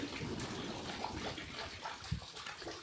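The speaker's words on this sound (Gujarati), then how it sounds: "કૂવો તો અત્યારે જો મોટર ચાલુ છે પાણી જાય છે" Water gushing steadily from an electric motor pump drawing from a village well, a continuous rushing flow with splashing heard from close by, with no talk over it.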